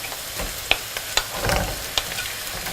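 Meatballs frying with onions in a pan give a steady sizzle, with a few clinks of a utensil stirring and scraping.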